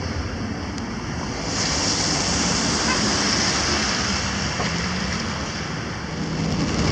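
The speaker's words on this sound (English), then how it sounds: "Driving through a monsoon here." Dense roaring wash of heavy monsoon rain pounding a moving motorhome, a continuous broadband rush swelling slightly louder midway, close and enveloping without speech.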